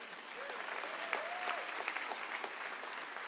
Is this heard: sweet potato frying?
no